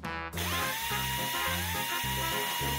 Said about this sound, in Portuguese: Você segura e eu apertarei os parafusos.